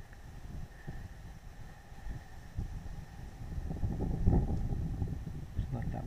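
Wind gusting across an outdoor rifle range as a .243 Tikka T3X is set up, a steady low rumble buffeting the microphone that swells louder toward the end, with no talk.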